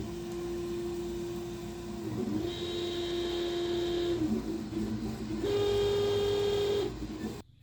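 A Sovol SV06 3D printer runs after its linear rods and bearings are lubricated, its stepper motors giving a steady, close whine that shifts pitch in three sustained stretches before stopping.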